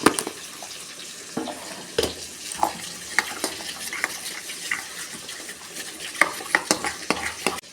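A spoon stirs ground coriander, cumin and chilli powder into hot oil in a pan for Bengali aloo dum, with soft sizzling and repeated scraping clinks scattered across the clip, close and moderately quiet.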